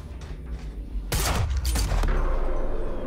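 Pistol firing in the Quantum Break video game: a quick volley of loud, sharp gunshots in the middle of the clip, following a quieter stretch of background game noise.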